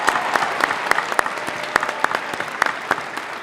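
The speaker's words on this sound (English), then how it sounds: "a big round of applause" A commencement crowd at Oregon Tech in Klamath Falls applauds the dads, the sustained clapping punctuated by sharp individual claps and a few whoops, with no speech over it.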